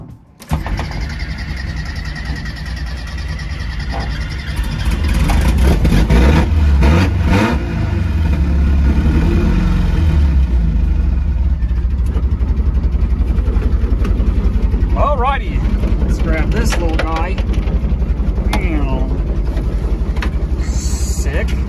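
A Volkswagen Type 3 engine starts and settles into a loud, steady running rumble close by, with a few revs and some talking over it.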